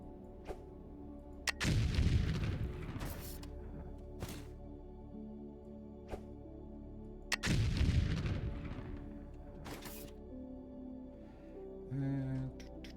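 Explosions in the video game Foundry: two big booming blasts a few seconds apart, each with a rumbling tail, separated by sharper smaller bangs and quiet gaps.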